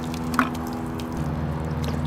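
A water-activated hazmat foam pipe plug is soaked in water, giving soft wet squishing and dripping over a steady low hum, with one brief sharper splash near the start.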